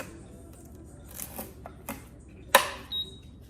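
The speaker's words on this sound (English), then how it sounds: "So what I'm going to do is turn the blender on." A deluxe cooking blender holding water and a few drops of dish soap being switched on, giving a few sharp mechanical clicks and clacks close up, with one loud snap in the middle.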